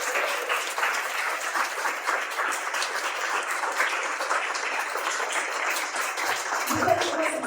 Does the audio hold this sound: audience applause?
yes